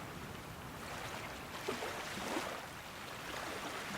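Flowing water fills the game world of Salt and Sanctuary with a quiet, constant rushing wash. It stays even and unbroken, with no voices over it.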